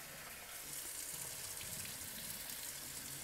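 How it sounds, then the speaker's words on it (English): Alkaline nixtamalization liquid draining from a pot of corn into a kitchen sink, a steady hissing, splashing pour of water that runs continuously and close by with no pauses. "Now we want to drain the liquid, the alkaline solution."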